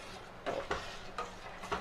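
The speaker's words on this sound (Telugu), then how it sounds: "ఇలా పోపు దినుసులంతా పెరుగులో వేసి కలుపుకోవాలండి బాగా" Spices tempered in hot oil are stirred into yogurt for curd vada, producing soft scraping and clinking strokes of a spoon against a bowl, repeated at an irregular rhythm and heard close by.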